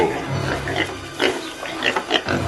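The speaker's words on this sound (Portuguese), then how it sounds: "perto dali estavam muitos porcos comendo" Several pigs grunt and oink while feeding, a dense, continuous chorus of overlapping snorts heard up close.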